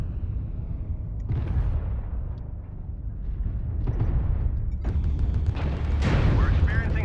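Mech weapons chain firing in MechWarrior Online, with rolling booms and bursts layered one after another, growing louder and denser toward the end over a constant rumbling background.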